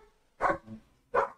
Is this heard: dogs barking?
yes